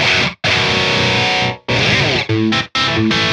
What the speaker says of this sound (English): get more of that kind of very, very quick slapback